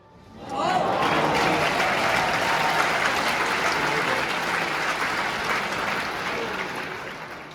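A tennis stadium crowd applauds during a Jannik Sinner match, the clapping swelling in within the first second, then holding as a dense, sustained roar before easing slightly toward the end.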